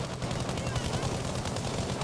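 Continuous gunfire from the Battlefield 5 shooter game, on the Rotterdam map: a dense, steady barrage of shots and explosions throughout, loud and close, with no clear gaps.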